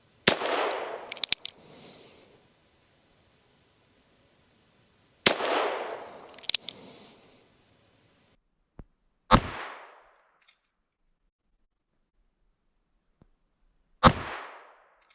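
A Ruger Wrangler .22LR revolver fired offhand at 7 yards on a range: four sharp, loud cracks spaced several seconds apart, each with a short ringing tail, with near silence between them.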